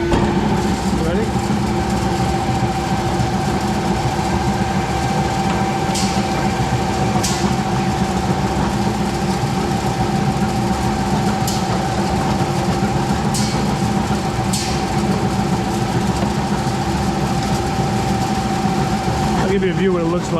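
A Virtus Equipment A3040 slow speed granulator, a 10 horsepower unit with a 4 mm screen, runs steadily with a constant mechanical hum and drone, punctuated by occasional sharp clanks and knocks.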